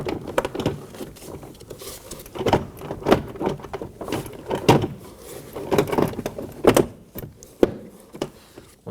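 A Toyota Corolla front door panel is pushed into place by hand, with a series of dull thumps and clip snaps around its edges and light plastic rustling in between, close and steady over several seconds.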